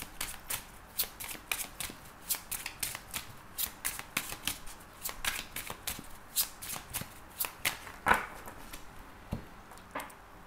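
Tarot cards are shuffled by hand during a reading, making a steady run of quick, crisp papery slaps and riffles, close and alone with no talking.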